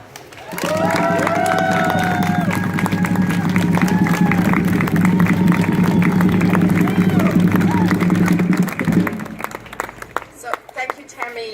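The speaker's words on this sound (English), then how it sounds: "Big, loving, warm applause for Lynne Ballen." Crowd at an outdoor Long Beach Dyke March rally breaks into loud, sustained applause and cheering with whoops over a steady clapping roar, fading out near the end.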